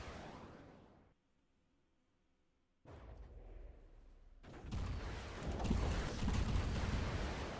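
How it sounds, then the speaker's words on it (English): Missiles launched by a TCRV behind a hill in From the Depths, a muffled launch whoosh, a brief quiet stretch, then a rumbling roar of firing and impacts that grows loud and sustained. "The TCRV is content to sit behind a hill and slowly lob missiles at its"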